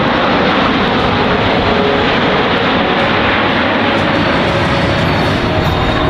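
A Boeing C-17 Globemaster III jet passes low over show center at an airshow, a loud, continuous roaring rumble of engines filling the air throughout.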